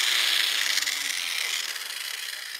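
A tool scores a cut line into a metal part for a short shifter install on an OBS Ford, giving a continuous close scraping, rasping sound that stays fairly steady and fades slightly, with no talk.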